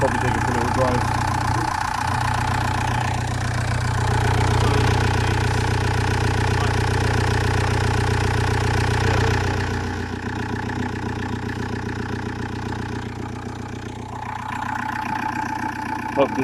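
A Vauxhall Vivaro van's 2.5 diesel engine idles at close range while warming up, a steady, loud mechanical rumble that drops slightly in level partway through; a person speaks over it at times.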